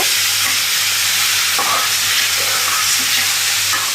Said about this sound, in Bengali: এখন ভালো করে মিক্সচার করে নেড়ে চেড়ে নিব।